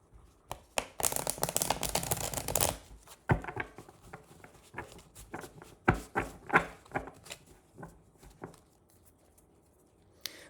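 Tarot cards are shuffled by hand before a reading, with a dense burst of riffling early on followed by softer intermittent taps, slides and rustles up close, quiet and without talk.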